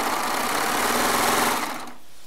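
Serger sewing machine stitching jelly roll quilt squares, a fast whirring motor buzz running continuously at close range, then winding down and stopping near the end.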